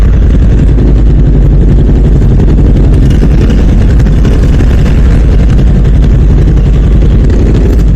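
A Voge 525 DSX big-bike motorcycle engine drones loudly and steadily while riding, a constant low throbbing rumble with wind roar and no pauses.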